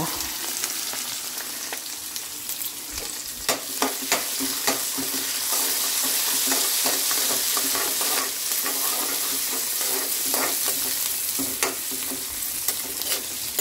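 Urad dal frying and being stirred in a pan at a home kitchen stove, a continuous bright sizzle with repeated scraping clicks of the spatula, close and steady with no talking.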